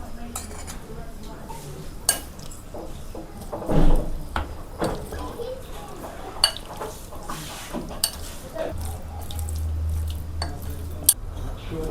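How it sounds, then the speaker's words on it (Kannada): Chicken being mixed with maida flour in a bowl for butter garlic chicken, giving scattered scraping and clinking knocks of a spoon against the bowl, close, with a louder clatter early on and a voice talking over it. "ಇದಕ್ಕೆ 2 ಟೇಬಲ್ ಸ್ಪೂನ್ ಮೈದಾ ಹಾಕಿ ಚೆನ್ನಾಗಿ ಮಿಕ್ಸ್ ಮಾಡಿಕೊಳ್ಳಿ"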